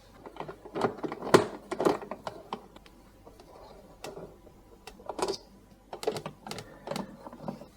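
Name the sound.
undoing screws with a 4mm hex bit screwdriver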